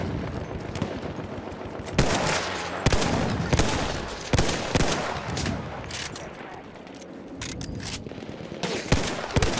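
Machine gun fire rattles through a Battlefield 1 match, with repeated loud bursts and single cracks at close range coming in an uneven rhythm over continuous battle noise, and a voice speaking briefly over the shooting.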